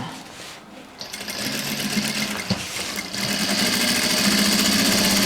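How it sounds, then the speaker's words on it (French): A sewing machine stitches bias binding onto umbrella fabric, its fast, steady mechanical whir running close and loud. It starts after a short pause and continues with brief changes in speed. "Et là, ça coud des deux côtés."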